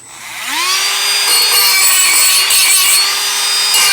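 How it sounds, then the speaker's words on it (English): A Dremel rotary tool cleans up freshly cut plastic edges on a motorcycle tool tube, spinning up with a rising whine, then holding a steady loud high-pitched grind with light rasping changes in contact throughout. "Now I'm going to hit it with the Dremel just to clean up these edges a little bit."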